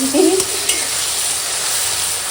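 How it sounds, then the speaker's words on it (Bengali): Pumpkin flowers frying in a pan with salt, turmeric and mustard oil give a constant close sizzle, opening with a short burst of stirring and scraping before the frying settles into a steady hiss. "লবণ হলুদ দিয়ে কুমড়ো ফুলটা এখন চাপিয়ে দিয়েছি"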